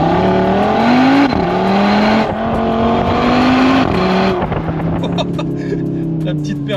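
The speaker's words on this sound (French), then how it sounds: "les clapets d'échappement se sont ouverts et c'était vraiment sympa hein" A 2022 Audi RS3 in performance mode with its exhaust flaps open, heard from inside as the engine pulls hard and loud through rising revs with gear changes. Someone speaks over it.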